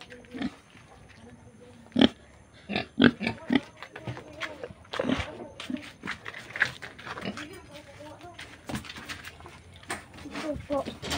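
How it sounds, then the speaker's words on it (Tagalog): Pigs on a small farm grunting and snorting at feeding time, with irregular close grunts, clatter and a few short squeals, and someone speaking at times. "Pakainin na po natin ang mga baboy."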